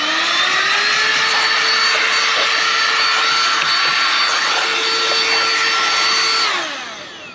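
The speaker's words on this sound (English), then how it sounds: "We're gonna use this vacuum to clean up a lot of the dust." A vacuum cleaner drones loudly and steadily with a high whine as it sucks dust from a Roomba being serviced, then winds down at the end; no talking.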